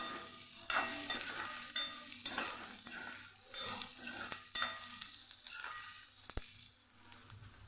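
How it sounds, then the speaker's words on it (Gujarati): Onions sauté in hot oil in a pan, sizzling steadily while a spoon stirs them in repeated scraping sweeps, with light clinks against the pan. "હવે આપણે અહીંયા ડુંગળી ઉમેરી દઈશું ડુંગળીને પણ સરસ સાતડી લેવાની છે"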